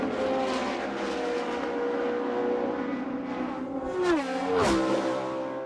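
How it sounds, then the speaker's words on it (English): A high-pitched Indy race car engine drones steadily, then a couple of cars scream past with sharp falling pitch sweeps, loud and close, at the 2000 Delphi Indy 200 at Walt Disney World. "There's a good indication of how different the 90-degree crank sounds."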